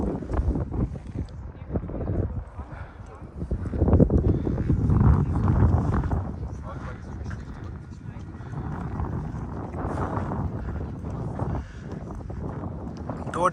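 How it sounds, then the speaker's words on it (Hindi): Strong wind gusts over a hilltop area of medieval buildings in Limburg an der Lahn, buffeting the microphone in loud, uneven rumbles while a person talks throughout. "तो बहुत ही तेज हवा चल रही है।"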